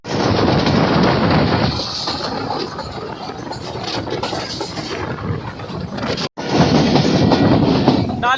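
Awam Express train running from Gujar Khan to Taxila: a loud, continuous rumble and rattle of carriages on the rails, with a brief sharp cutout near the end before the roar resumes.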